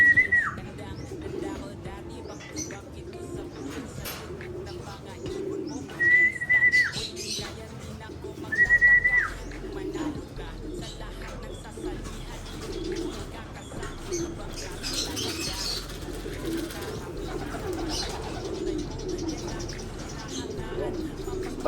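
Pigeons coo in soft, low, repeated murmurs close by, with several sharp whistles and people chatting throughout.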